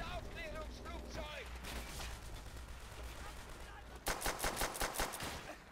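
Video game gunfire in World at War, with bursts of automatic fire and shots rising sharply near the end, under background game noise and a voice talking early on.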